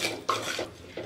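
Milk being stirred into a masala macaroni pasta gravy in a pan, with a spoon scraping and clinking against the metal in close, uneven strokes and a couple of sharper knocks, no talking.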